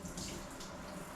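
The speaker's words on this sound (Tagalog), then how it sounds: "hina ang tubig" A weak trickle of water runs from a household tap in a neighbour's home, a thin, steady hiss close by with no voices over it.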